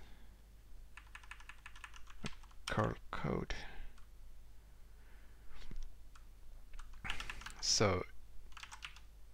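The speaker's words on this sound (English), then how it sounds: "My typing is so bad." Bursts of computer keyboard typing and clicking come close and distinct during a live curl coding session, pausing between runs while someone speaks.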